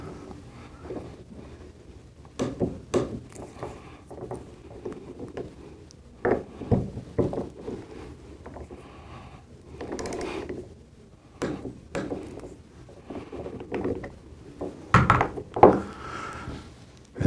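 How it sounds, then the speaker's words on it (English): A torque wrench clicks repeatedly while tightening the shim bolts along an EXAIR Super Air Knife. The sharp, close clicks and thunks arrive in irregular bursts over a quiet workshop background, with no talking. "until you hear the torque wrench click"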